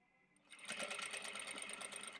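Sewing machine stitching fabric pieces for a cosmetic bag, a steady rapid mechanical rattle that starts after a brief quiet lead-in and runs evenly at close range, with no talk.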